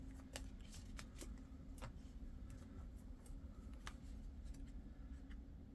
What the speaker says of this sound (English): We're going to pull a few more oracle cards just to see what pops out for us.